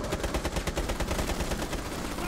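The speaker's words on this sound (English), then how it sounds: "Everyone shoot your guns in the air." Rapid gunfire from several players shooting into the air in a video game, a dense continuous burst of overlapping shots filling the whole stretch with no talk.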